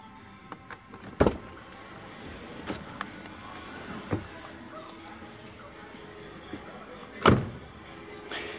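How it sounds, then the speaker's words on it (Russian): Doors of a 2019 Nissan Qashqai crossover being opened and shut: two loud solid slams several seconds apart with softer latch clicks between, close by. "Ну, двери стандартно работают также громковато, я считаю."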